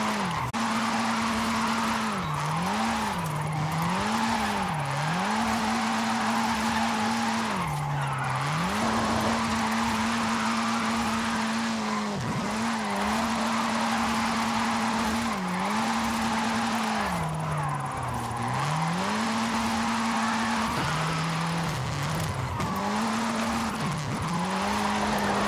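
An MG MG6 XPower rear-wheel-drive drift car in Forza Horizon 5 holds a loud, continuous engine note that dips and climbs repeatedly as it drifts, with tire squeal layered over the revving.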